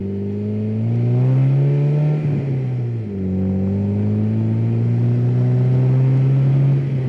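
A DF Goblin kit car's engine runs loudly and close while driving, a steady droning hum that rises in pitch, dips briefly around the midpoint, then climbs again.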